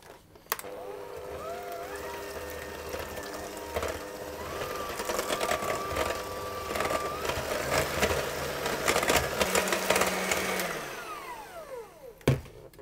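Electric hand mixer whirring steadily through Bakewell tart batter, a continuous close motor drone with shifting pitch as it works the mix, cutting off sharply near the end.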